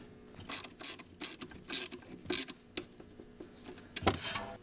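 A ratchet turns a 10 mm socket on the rear fuel line connector of a Volvo 850 Turbo, giving a series of quick, close clicking bursts in an uneven rhythm with no one talking.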